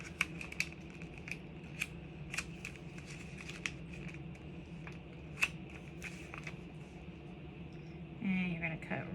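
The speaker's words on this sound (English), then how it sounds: "Now you get your little baby scissors." Small scissors snip through a plastic page protector in a series of sharp, close, crisp cuts spaced out over quiet room tone. A brief rustle near the end.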